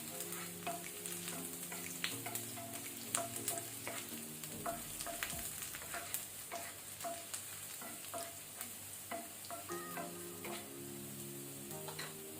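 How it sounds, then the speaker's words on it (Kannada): Prawns for fried rice sizzle steadily in a hot pan over a high flame, a continuous frying hiss with frequent small crackles and stirring clinks throughout, close and fairly loud with no talk. "ಇದು ಸ್ವಲ್ಪ ಲೈಟ್ ಕಲರ್ ಚೇಂಜ್ ಆಗೋ ತನಕ ಫ್ರೈ ಮಾಡ್ಕೊಳ್ಳುವ."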